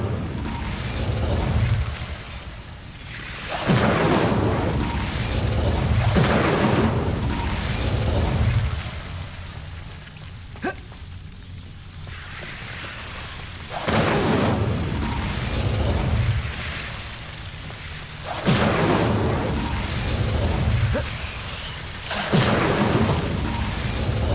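Repeated fire spell blasts cast in the video game Hogwarts Legacy, heard as loud whooshing, rumbling bursts of flame several seconds apart, with quieter game ambience between them.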